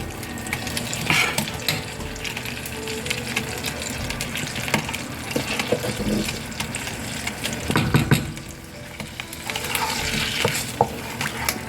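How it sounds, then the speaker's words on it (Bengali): Oil and butter heat in a pan for a cream sauce for creamy chicken pasta, making a steady moderate sizzle with occasional stirring scrapes and clinks close by. "সস তৈরি করতে আমি অল্প একটু তেল দিব আর বাটার দিব।"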